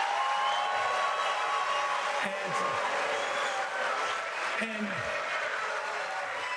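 An audience boos at a political event, a dense, steady roar of disapproval that fills the whole stretch at close range, with a voice briefly heard through it.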